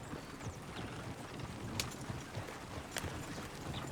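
Horse hooves clip-clop at an easy walking pace in the Red Dead Redemption 2 video game, a soft, steady rhythm of light thuds with a couple of sharper accents.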